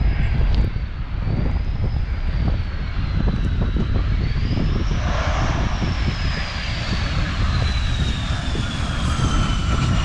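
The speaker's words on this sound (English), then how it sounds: "FA-18 Super Hornet coming in for landing" A US Navy F/A-18 Super Hornet jet comes in to land at an air show, its loud, steady engine roar filling the air with a rising and falling whine as it passes, no voices.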